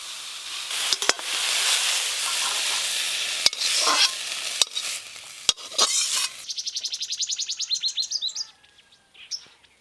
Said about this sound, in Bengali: একটু ভালো করে নাড়িয়ে নেব।